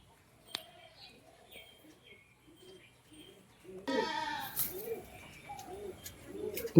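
A breeding pair of pigeons, a biscuit-green male and a red female, gives soft low coos in a close, repeated series, joined midway by a louder burst of rustling or wing movement.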